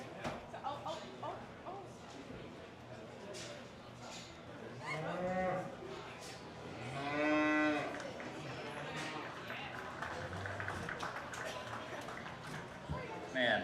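Cattle in a large beef breeding show arena moo loudly in a few long, rising calls amid crowd murmur and talking voices.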